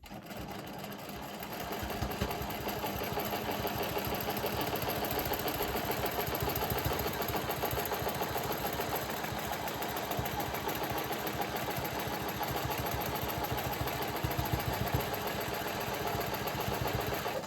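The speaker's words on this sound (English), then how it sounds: "My ruler is in position, so let's quilt this first petal." A sewing machine quilts a petal of a Whirlwind block guided along a quilting ruler, whirring continuously and steadily at close range for the whole stretch, with no talking.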